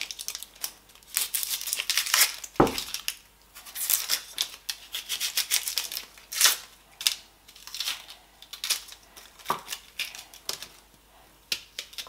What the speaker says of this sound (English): So let's cut the onions.